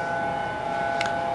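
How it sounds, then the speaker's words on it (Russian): Weekly civil defense siren test in Honolulu, Hawaii, on a rainy day: a steady, sustained wail holds a level pitch at moderate distance, unbroken throughout, with a brief faint sound near the end. "Вот слышите, какой гул? Это идет проверка сирены."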